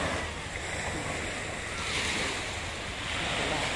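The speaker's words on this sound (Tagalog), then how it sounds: "Ay, ayan ang alon. Papunta rito sa akin." Ocean waves rolling and washing in steadily at East Coast Park, a continuous roar of surf with some wind buffeting the microphone.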